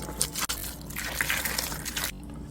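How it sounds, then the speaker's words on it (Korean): Hot water pours steadily over cucumbers stacked in layers in a container for oiji pickles, a continuous close splashing gush that stops abruptly near the end. "오이를 한 켜씩 쌓아주고 뜨거운 물을 부어줄게요"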